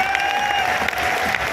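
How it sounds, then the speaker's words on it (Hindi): Brief burst of audience applause at a network marketing event in India, dense clapping mixed with a sustained tonal hum, loud and steady throughout the short moment. "तो आप सबके लिए जोरदार तालियां"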